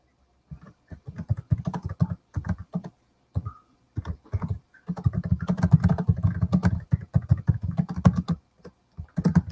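Typing on a computer keyboard, close and clear, in bursts of rapid key clatter separated by short pauses, with a longer steady stretch near the end.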